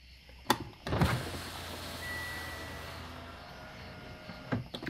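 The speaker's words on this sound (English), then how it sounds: "I'm gonna try to roll it up and down." A Mitsubishi Outlander front passenger power window motor runs after a thunk, a steady whirring hum for a few seconds as the glass moves, ending with another soft thump, close by and without talking.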